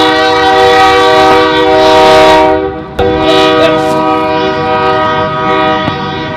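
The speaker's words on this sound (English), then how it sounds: "but now a train passes" A train passes close by, its loud multi-tone horn blaring continuously over rumbling wheels, with a brief sharp bang partway through and the horn holding to the end.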